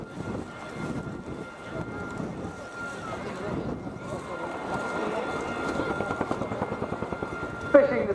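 A helicopter with about 10,000 shaft horsepower flies a nose-over display manoeuvre at RIAT 2023, its steady rotor thud and turbine roar building under continuous commentary over a public address.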